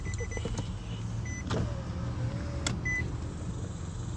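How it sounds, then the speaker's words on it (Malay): Car power windows motoring up, a steady electric whir over a low idle hum, with a couple of faint clicks and beeps, close and clear with no talk. "it's not the battery because the windows are rolling up"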